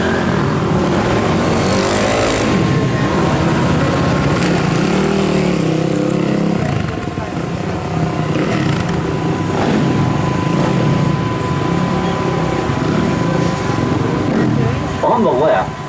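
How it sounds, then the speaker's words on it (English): Custom-built stunt show vehicles revving their engines and driving at high speed on a studio backlot, a continuous loud engine roar with someone talking over it. "the custom-built stunt show vehicles rev their engines up to 70 miles an hour"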